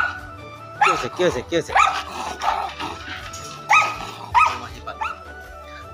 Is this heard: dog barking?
yes